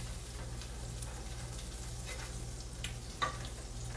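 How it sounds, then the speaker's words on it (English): About a tablespoon of butter sizzles in a skillet as it deglazes the pan after hamburger steaks, a soft steady frying hiss with low hum beneath and one small clink near the end. "I'm going to put in about 1 tablespoon of butter, kind of deglaze that skillet a little bit."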